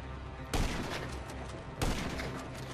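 Two sharp gunfire bursts striking a car door in GTA V Online, loud impacts about a second apart over steady game background noise.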